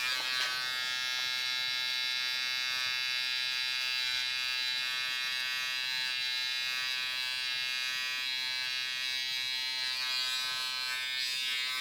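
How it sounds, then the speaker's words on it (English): An electric hair clipper buzzes steadily and close while shaving a mid drop fade haircut in a men's hair salon, a continuous high whine with no talk over it. "I'm gonna go ahead and come in and just shave out the bottom of the line"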